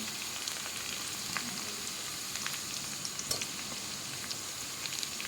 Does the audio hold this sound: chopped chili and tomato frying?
yes